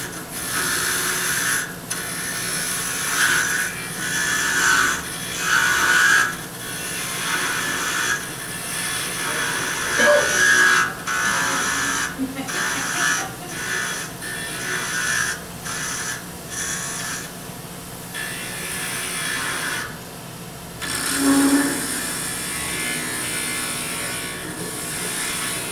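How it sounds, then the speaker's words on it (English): A screw chisel shapes a threaded pewter finial spinning on a lathe, giving intermittent scraping and rasping bursts that come and go over a steady machine hum, fairly close. "I seem to find it easier for the long flowing curves to use a screw chisel."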